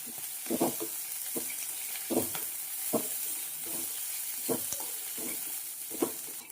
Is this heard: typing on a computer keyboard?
no